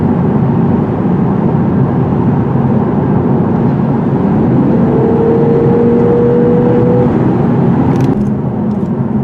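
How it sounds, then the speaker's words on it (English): A 2017 Lexus RC cruises over a rough road, its tires producing a loud, steady low rumble inside the cabin with a smooth engine hum and a brief whining tone midway, constant and close throughout. "we're getting a lot of rumbling noises from the tires"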